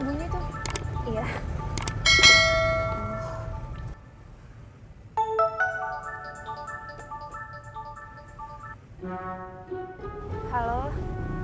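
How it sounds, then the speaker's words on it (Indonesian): A mobile phone rings with a bright melodic ringtone, its notes repeating in the middle of a scene from the Indonesian series Tukang Ojek Pengkolan. Clatter and noise come first, and the tone plays at moderate loudness. "Udah, HP-nya bunyi tuh."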